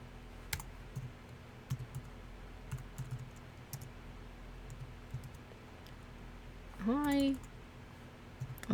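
Soft, steady typing on a computer keyboard, close and quiet, keys tapping in an uneven rhythm, with a brief rising whine near the end.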